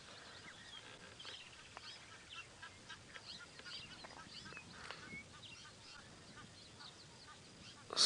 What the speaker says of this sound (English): Still a lot of Egyptian geese around